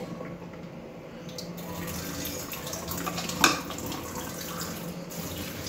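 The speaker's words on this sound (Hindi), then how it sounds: "अभी जो है मनान ना बर्तन धोने लगा है" Tap water running steadily into a sink while dishes are washed, with a sharp clatter of a dish partway through.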